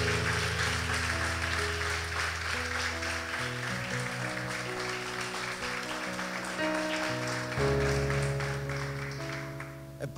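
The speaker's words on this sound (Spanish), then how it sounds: "Alguien debería darle un fuerte aplauso al Señor por eso." Congregation applause during a Spanish-language church sermon, continuous clapping heard over sustained organ or keyboard chords that shift through the clip, steady and fairly loud throughout.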